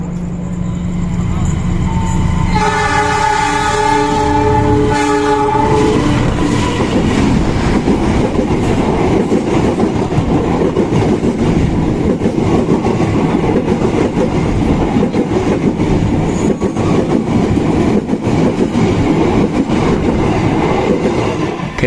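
The Serayu passenger train rumbles along steadily with a continuous roar and rattling wheels, loud and close, after a brief horn-like tone at the start.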